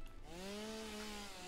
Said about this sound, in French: Coup de tronçonneuse